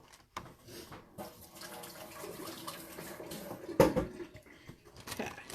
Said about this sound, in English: I'm going to wash my hands because they're a little gooky.